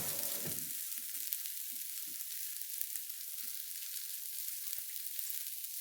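Veggie burger patties fry in a pan with a steady, even sizzle that holds throughout, close and moderately quiet, with a few faint clinks of utensils and no talking.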